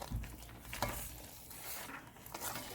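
Shrimp and lobster are stirred together with noodles in a pan: quiet scraping and clinking strokes over a faint sizzle, close by and low in level.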